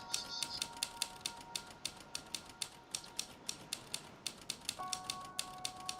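Typewriter keys clack in a quick, even run of sharp strikes in the video game The Novelist, with faint tonal chimes sounding alongside, all fairly quiet and with no voices.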